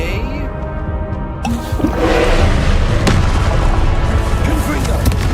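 A Confringo fire spell goes off in Hogwarts Legacy: after a thinner stretch of game noise, a loud blast bursts in and swells into a sustained roaring rumble, with a sharp crack partway through.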